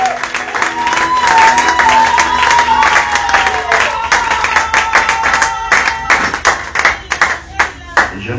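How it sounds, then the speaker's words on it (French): A church congregation loudly cheering and clapping for the Lord, steady dense applause with crowd voices and a rising shout, thinning toward the end into a few scattered, sharper claps. "Nous acclamons très fort pour le Seigneur."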